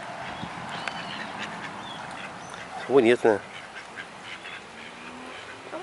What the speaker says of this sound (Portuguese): É um pato.